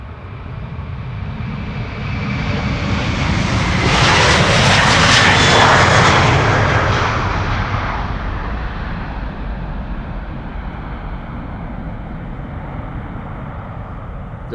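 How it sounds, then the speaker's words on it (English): An Airbus A340-600 jet airliner departs Amsterdam Schiphol, its loud, continuous engine roar swelling to a peak as it passes close by the runway, then fading into a long steady rumble. "The next A340, the A340-600 to Paramaribo, will be leaving from the runway we are standing next to."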